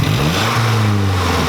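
A Mazdaspeed turbo flutters loudly and close by, with a steady engine drone under a fluttering, chattering turbo release that runs continuously through the short burst. No one speaks.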